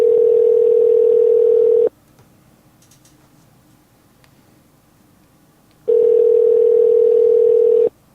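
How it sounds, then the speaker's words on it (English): A telephone call tone placed to Charlie Crist's cell phone: a steady tone sounds for about two seconds, breaks off into near silence, then returns for another two-second burst, clear and fairly loud. "All right, this is Charlie Crist's cell phone number"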